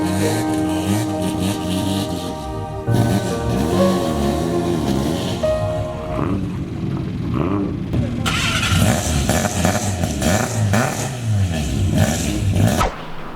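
A car engine cranks, catches and runs, rough idle and revving close by with people talking over it throughout.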